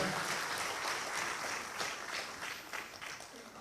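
A comedy show audience applauds at a live Kannada stand-up performance, a faint, distant wash of many hands clapping that continues throughout.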